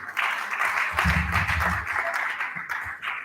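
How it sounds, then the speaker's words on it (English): Audience applause at an international university conference in Akwa Ibom State, Nigeria, steady clapping from a seated crowd lasting a few seconds at moderate level, with a brief low murmur of voices partway through. "There's a big round of applause."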